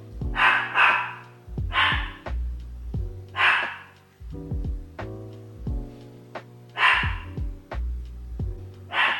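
Dogs bark in loud, sharp bursts, several barks spaced a second or two apart, close and clear against an otherwise quiet room.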